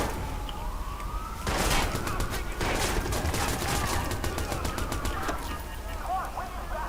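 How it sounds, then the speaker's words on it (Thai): Rapid gunfire in the Watch Dogs video game, a fast train of sharp repeated shots over a siren-like wail and game noise, loud and continuous. "ต้องใช้ปืนพกซะแล้ว"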